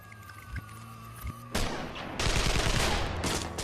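High-velocity rifle gunfire from the North Hollywood bank shootout: a few quieter thumps, then a loud, dense fusillade of rapid overlapping shots rolling on without pause.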